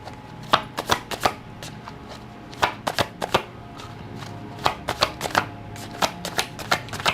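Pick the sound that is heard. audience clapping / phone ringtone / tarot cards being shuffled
tarot cards being shuffled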